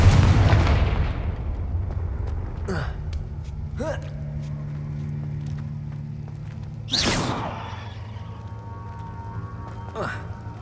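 Confringo fire-spell blasts from the video game Hogwarts Legacy go off as several sharp booming explosions spread over the stretch, each fading into a low rumble over constant game ambience.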